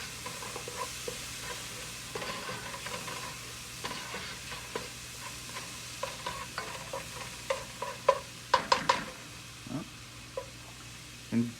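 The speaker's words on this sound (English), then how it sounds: "after your butter has melted, you're gonna go ahead and throw in your Portuguese sausage. Give that a nice saute." Portuguese sausage sautés in melted butter, a soft steady sizzle with scattered pops and crackles, and utensil stirring clicks that grow louder and more frequent toward the end.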